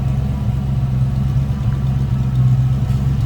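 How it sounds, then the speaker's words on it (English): A 1966 Ford Mustang Fastback idles close by with a deep, throaty Magnaflow exhaust rumble, steady and low with slight surges, no talking. "You can hear a nice throaty exhaust. Deep exhaust note"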